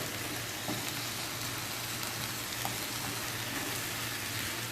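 Potatoes frying in a pan for a Spanish omelette give a steady, even sizzle with faint scraping of stirring underneath, close and continuous with no talking.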